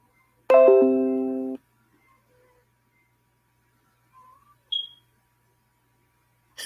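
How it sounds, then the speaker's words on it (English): A carbon monoxide detector gives a single loud, clear electronic tone lasting about a second, followed by a long quiet stretch broken by a couple of faint brief chirps. No one speaks. "It's our carbon monoxide detector, and I can't reach it."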